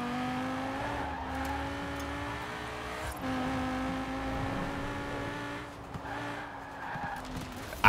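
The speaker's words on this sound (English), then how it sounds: "This is the Lamborghini / Audi R8 V10." A Lamborghini / Audi R8 V10 in the racing video game Forza Horizon 4 pulls hard with a steady, rising engine drone and tire squeal, loud and continuous throughout.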